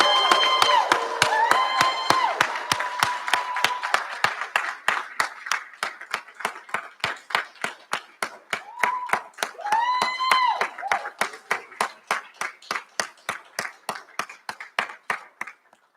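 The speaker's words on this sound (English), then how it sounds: "give them a rousing round of applause" A graduation recognition ceremony audience at Old Westbury breaks into applause that settles into steady rhythmic unison clapping, loud and close, with bursts of cheering and shouting voices riding over the beat early on and again midway.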